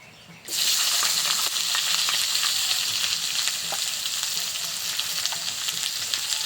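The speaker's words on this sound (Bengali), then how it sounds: "এবার দিয়ে দিচ্ছি কেটে রাখা টমেটো।" Loud, steady sizzling of chopped tomatoes hitting hot oil after tempered spices and chillies, starting abruptly after a brief quiet moment and continuing close up with faint stirring clicks.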